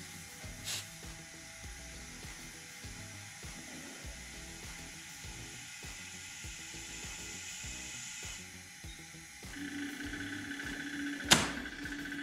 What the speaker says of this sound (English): pretty sure that's the wastegate fluttering back there